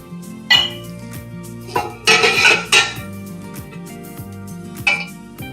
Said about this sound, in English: now I'm filling my soup bowls